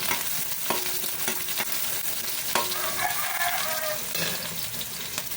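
Chopped onion added to garlic already sizzling in a pan, a steady loud frying hiss with occasional clinks and scrapes of stirring and a brief watery gush near the middle, close up.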